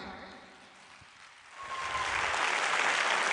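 Audience clapping at a Human Rights Day program swells in about halfway through, rising from a quieter murmur to a dense, steady ovation.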